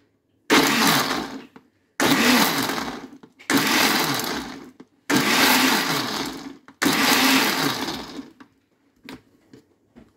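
A blender pulsing pomegranate seeds in five short bursts of about a second each, loud, whirring and gritty, separated by brief silences.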